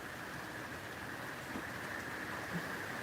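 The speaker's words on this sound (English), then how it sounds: "Oh, here comes the rain again." Steady rain hisses down evenly, a constant soft wash of drops with no voices, holding the same level throughout.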